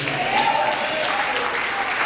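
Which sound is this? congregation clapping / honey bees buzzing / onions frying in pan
congregation clapping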